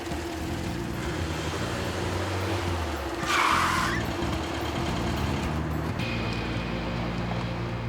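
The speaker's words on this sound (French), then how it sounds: "Les freins fonctionnent." A 1966 Volkswagen Beetle brakes on a street, with a steady engine hum underneath and a brief, sharp tire-skid screech in the middle, then the engine continues alone.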